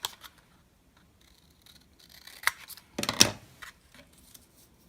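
Scissors snipping coloured card, a few sharp cuts close to the microphone, with one louder cluster of snips amid quiet pauses.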